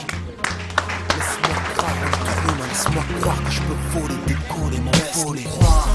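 A crowd applauds at a university inauguration, with scattered clapping mixed with music and voices in the background, fairly lively and close.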